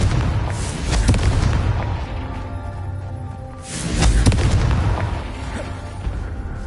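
Confringo blasting spell from Hogwarts Legacy, heard as two heavy booming explosions a few seconds apart, each with a loud low rumble and crackling burst that swells and then fades.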